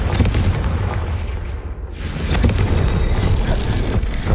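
A Confringo fire spell explodes in the Hogwarts Legacy video game with a loud, booming blast, followed by a roaring rumble that dips briefly and then surges back, noisy and close.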